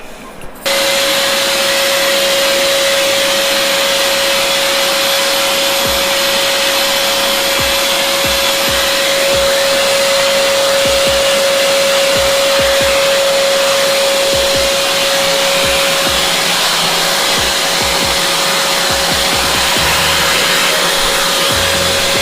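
An AmazonBasics wet and dry vacuum cleaner switches on after a brief pause and runs steadily, its loud, even motor whine and rushing airflow holding for over twenty seconds with a constant high tone and no talk over it.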